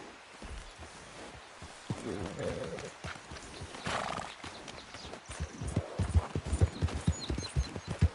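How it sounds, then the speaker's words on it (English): Horse hooves clip-clopping with an occasional whinny in a video game, mixed with game sounds and voices talking over them, getting busier and louder toward the end. "Is that horse okay, Arthur?"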